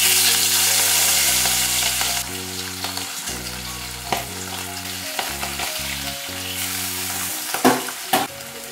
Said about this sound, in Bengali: এবার আমি এতে ইলিশ মাছটা একটু হালকা করে ভেজে নিচ্ছি